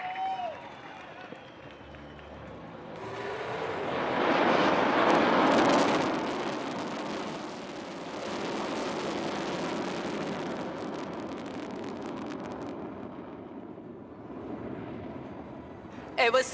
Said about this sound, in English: ஸ்லோவா பொறுமையா அழகா மேதுவா உங்கள் முன்னால் Su-30 MKI.